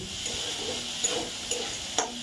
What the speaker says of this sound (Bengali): চলো ভাজা হোক